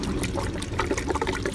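Lacquer thinner poured through a funnel into a car's gas tank, a steady close trickling flow with no talk.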